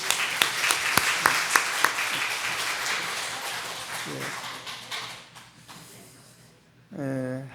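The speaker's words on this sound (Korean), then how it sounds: "박수 한번 더 합시다." Congregation applause during a Korean church worship service: a burst of claps from many hands that thins out and fades, followed by a voice speaking.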